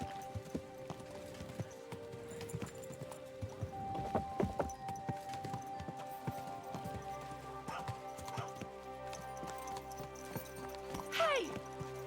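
Rhythmic clip-clop of horse hooves trotting at moderate distance in the video game Kingdom Come: Deliverance II, with background ambience, brief voices and a horse whinny near the end.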